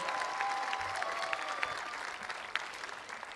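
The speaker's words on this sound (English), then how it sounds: "Please stand so we may applaud you." The audience at a 2022 high school commencement ceremony keeps up a steady, even wash of applause. It sounds somewhat distant in a large hall, with faint voices and a few sharper claps standing out.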